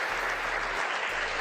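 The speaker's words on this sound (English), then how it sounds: "That's applause." Loud, dense audience applause at a comedy show, steady and close, filling the whole moment without any voices.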